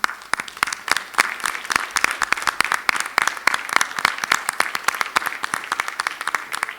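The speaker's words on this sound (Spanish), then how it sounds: "Este aplauso de nosotros ahora para ustedes" An audience applauds continuously, dense overlapping hand claps at a steady level from start to finish.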